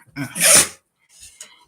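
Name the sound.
sneeze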